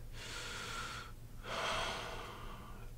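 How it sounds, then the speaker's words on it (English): Two long, steady breaths taken during a calm tapping relaxation exercise, a slow inhale followed by a fuller, louder exhale, close to the microphone with no talking. "Take a deep breath."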